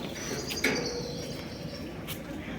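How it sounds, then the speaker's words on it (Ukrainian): Small birds chirp faintly in a Kraków courtyard, giving a few brief tweets over a low, hushed outdoor background. "Пташки співають скрізь по Кракову."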